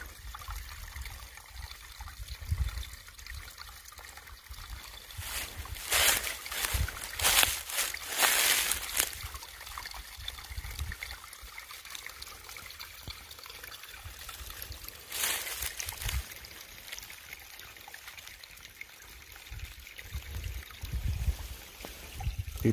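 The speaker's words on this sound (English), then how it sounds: "Another little stream." A small mountain stream trickles steadily along a hiking trail, soft and continuous, swelling into a few louder splashing bursts, with no talking.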